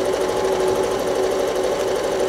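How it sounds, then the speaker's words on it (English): A sewing machine stitches in the ditch along a quilt seam, with a steady, close, continuous mechanical whir and fast needle rhythm throughout, no voices. "I might have to stitch off the ditch, stitch in the ditch there for just a little while."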